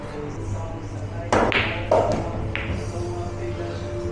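A pool ball drops into a pocket during a casual stripes-and-solids match, giving a short hard clunk and a couple of light taps over a steady background hum, with people talking nearby.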